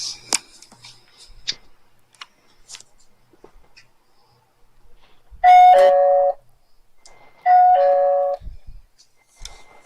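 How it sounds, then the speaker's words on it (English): A doorbell chimes twice, two bright electronic tones spaced a couple of seconds apart, loud and close, with faint clicks and rustling between. "Got the doorbell going."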